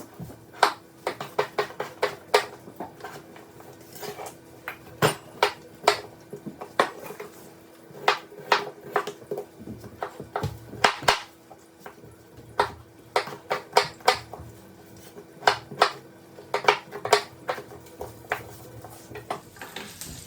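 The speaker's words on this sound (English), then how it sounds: "I'm going to go ahead and chop up the rest of my potatoes today" Potatoes being chopped on a board for curried squash and potato: sharp, close knife thuds in irregular bursts, sometimes quick runs of cuts, alone with no talking.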